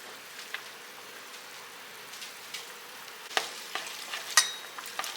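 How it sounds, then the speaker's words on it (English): Quiet scraping and tapping of a spoon stirring casserole ingredients with leftover ham, black pepper and garlic powder in a dish, with soft, irregular clinks and a few sharper knocks toward the end; no talking. "I'm going to go ahead and I'm going to stir all of those ingredients up together"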